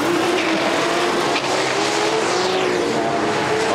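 A Pro 6 drag race car launching off the line during a qualifying run, a loud sustained engine roar that holds steady and close for the whole few seconds.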